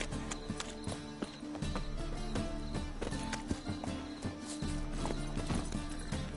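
Rapid clip-clop of horse hooves on a road in The Witcher 3, a steady galloping rhythm played close over a continuous music score, with no talk.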